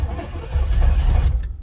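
A Pontiac Ventura engine, left unstarted for three years, cranks and catches on starting fluid, then runs as a rough, loud, low rumble throughout, with no talking.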